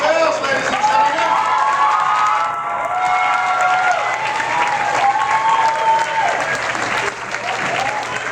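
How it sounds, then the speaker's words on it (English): A crowd applauds loudly and steadily for several seconds, with dense clapping and some cheering mixed in. "Please give her a round of applause."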